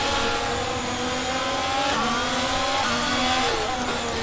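An F1 car in the F1 22 video game howls at high revs with rising and falling engine tones while the car slides on the verge of spinning, loud and continuous without talk.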